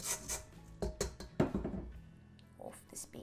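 A spatula scrapes butter down the sides of a mixing bowl for chocolate shortbread, making several soft knocks and rubbing scrapes close by, with a voice talking over them.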